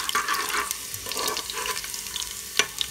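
Cumin seeds fry in a pan, a close crackling sizzle with bursts of spitting and a few sharp clicks from stirring, with no one talking.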